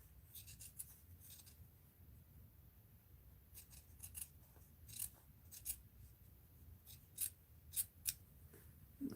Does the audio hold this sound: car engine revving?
no